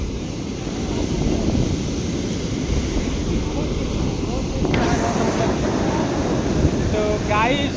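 Sea waves wash onto Udupi beach in a continuous roar of surf, mixed with buffeting wind on the microphone and people talking nearby.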